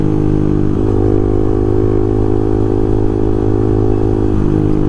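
A Honda Twister motorcycle engine runs loud and close, its steady throaty drone holding a constant pitch with slight dips as the throttle shifts, and no talking over it.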